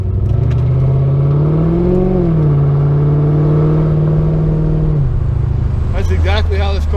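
A 1991 C4 Corvette with muffler eliminators pulls away from a start, its loud exhaust drone rising in pitch through the revs and dropping on the shift, heard from inside the car, with a brief clatter near the end.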